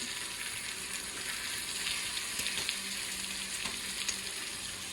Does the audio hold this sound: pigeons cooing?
no